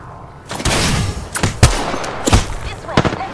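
Gunfire in the battle royale game Apex Legends: a string of sharp shots and bursts over a steady din of game noise, with several louder reports standing out at irregular intervals.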